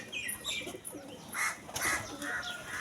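Pigeons being fed lentils in the morning give faint, soft cooing and brief bursts of wing flapping, heard from a short distance in a quiet outdoor setting.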